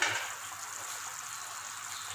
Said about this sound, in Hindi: ये देखिए ये पानी उबल रहा है। अब मैं इसमें चावल शामिल कर दूँगी।